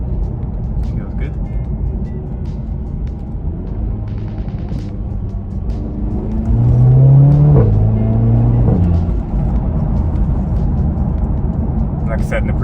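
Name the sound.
Audi TT engine intake noise while accelerating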